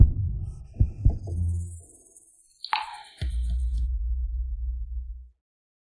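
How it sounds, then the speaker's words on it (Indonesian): Heartbeat sound effect in a drama, a couple of soft thumping beats followed by a sharp hit and a sustained low throbbing hum that fades out. "Aku mau dengar detak jantungmu."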